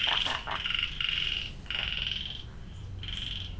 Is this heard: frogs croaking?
yes